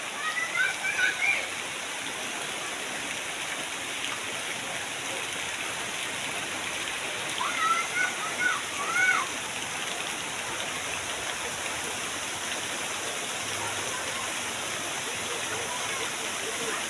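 Steady heavy rain hisses continuously for the whole stretch, a dense even pattering with no breaks, and faint bird chirps surface briefly a few times.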